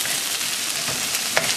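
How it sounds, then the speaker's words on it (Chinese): Onions stir-fry in a hot wok, giving a dense continuous sizzle with a few brief scraping clicks, close and loud, no talk. "我哋將啲洋葱放落個鍋度炒"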